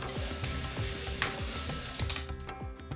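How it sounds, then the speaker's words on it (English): Hot tempering poured over curry leaves on a dish hisses in a busy, crackling sizzle with sharp pops and spits scattered throughout, close and steady, while cooking a Paal Kappa and Chicken Chukka dinner. "Then I placed the curry leaves separately on the dish and poured the hot tempering over them."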